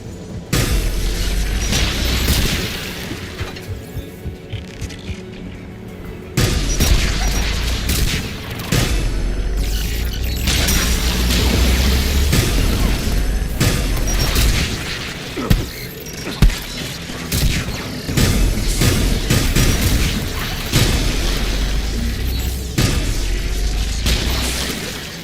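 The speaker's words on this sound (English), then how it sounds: "AA guns ahead of us." Anti-aircraft guns pound away in Mass Effect 3 amid a dense, loud battle soundscape of continuous booms, rapid bursts and heavy rumble, with a brief pulsing stretch before the barrage swells again.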